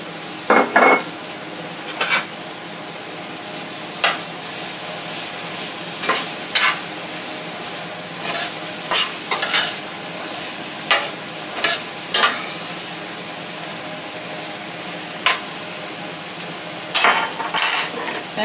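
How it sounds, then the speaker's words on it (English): Large portobello mushrooms fry in a pan for a squash medley side dish. A steady sizzle runs underneath while a utensil repeatedly clacks and scrapes against the pan as they are stirred at irregular intervals. "now let's add our portobello mushrooms"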